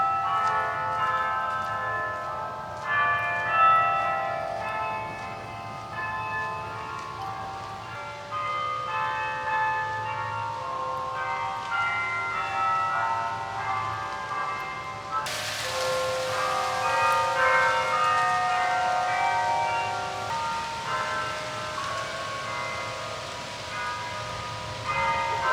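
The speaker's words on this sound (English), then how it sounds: "I missed the first bell, it was the 2 PM bell." Several deep Bok Tower bells in Florida chime 2 PM in a slow, overlapping sequence, resonant and fairly loud, with steady background hiss like light rain.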